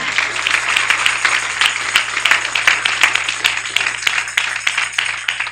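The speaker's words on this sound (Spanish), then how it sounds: "Dele ese aplauso de alabanza al Señor" Sustained applause from a church congregation, dense clapping rolling steadily throughout with no voices standing out.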